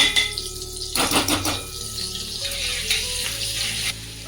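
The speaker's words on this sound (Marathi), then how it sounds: "दोन चमचे तेल टाकून घेते हे बा याच्यामध्ये थोडस बटर टाकून घेते" Butter and oil sizzle in a pan, a steady crackling fry with a louder burst of spattering near the start, continuing close and fairly loud throughout with faint clinks of cookware.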